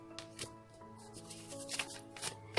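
A deck of cards being shuffled close by during a tarot-style card reading: a few soft riffling bursts against a quiet background with faint tonal music.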